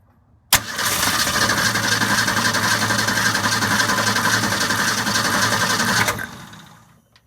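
The engine of a 1962 Ford Falcon cranks on the starter for about five and a half seconds without catching, a loud, even, rapid churning with a sharp click at the start, then winding down to silence.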